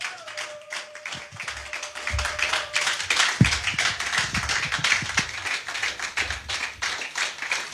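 Congregation at a worship service clapping in acclamation of the Lord, a steady irregular patter of many hands, moderately loud and close, continuing throughout with faint voices mixed in.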